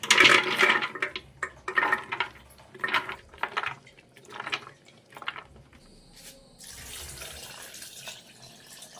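Water splashes and pours into a blender jar over rinsed beans, a close burst of irregular gushing and clatter that settles into a steadier trickling stream.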